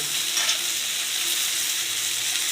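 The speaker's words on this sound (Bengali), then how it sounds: "ঝিঙেটা ভালো করে ভেজে নিলাম কাঁচা লঙ্কা ঝিঙে লবণ আর হলুদ দিয়ে" Ridge gourd frying in a pan with green chili, salt and turmeric, giving a steady, loud, continuous sizzle with no talk.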